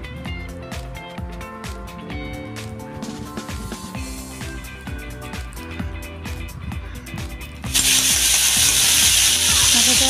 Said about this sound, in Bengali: খালি জিরা দিয়ে ফোড়ন দিয়ে দেবো।